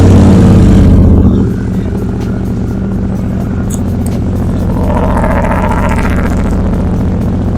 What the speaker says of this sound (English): start this thing up and see how it sounds with the baffle out, with the Screamin Eagle exhaust on